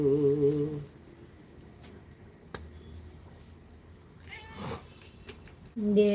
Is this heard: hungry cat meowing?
yes